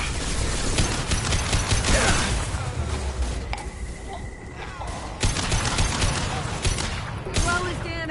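Mass Effect 2 Legendary Edition gunfire: several bursts of rapid shots and mechanical weapon clatter crackle loudly across the scene, mixed with crashing impacts and shouted speech.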